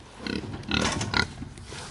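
A pig grunts in a few low, rough bursts close by outdoors, with some background noise around them.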